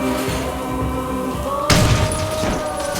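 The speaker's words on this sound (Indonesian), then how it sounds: "ternyata tembakan tersebut dilakukan oleh ibunya Michael" A gunshot in an action film lands as one heavy, loud boom partway through, breaking over a dense, tense soundtrack.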